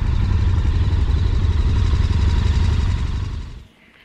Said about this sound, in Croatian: Tražimo parking za motore i evo ih.